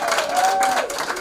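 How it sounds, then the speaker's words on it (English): An audience gives a brief burst of clapping, a short patter of many hands heard at moderate distance with no one talking. "Can we clap for that?"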